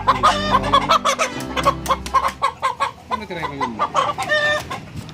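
Several chickens cluck busily at close range, with overlapping squawks and a low rumble underneath throughout.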